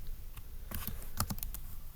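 A search is typed on a computer keyboard, with scattered soft key clicks in a quiet room and a short quick burst of several keystrokes near the middle.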